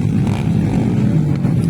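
An underbone motorcycle at a qualifying round race in Pikit, North Cotabato, its racing engine droning loud and steady at high revs throughout the brief stretch, with no talk over it.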